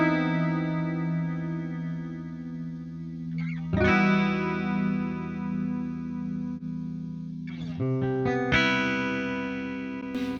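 Eight-string electric guitar in the Archetype: Petrucci setup, played with a dry clean tone and no effects: sustained ringing chords that change twice, close and steady in loudness with no voices.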